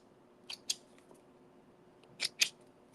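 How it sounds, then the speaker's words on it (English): Scissors trim little threads on a shirt, two pairs of crisp snips, one early and one near the end, close up against a quiet background. "I am just going to trim up the little threads right here."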